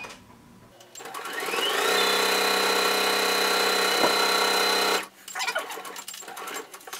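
A sewing machine stitches a kimono seam, speeding up to a steady high whir for about three seconds before stopping, with quiet handling noises before and after.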